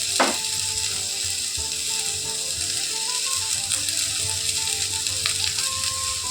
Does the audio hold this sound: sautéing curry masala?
yes